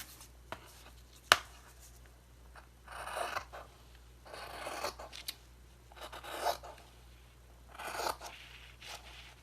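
Scissors cutting fabric along a pattern piece, several quiet bursts of scraping, rasping snips spaced a second or two apart, with a sharp click near the start.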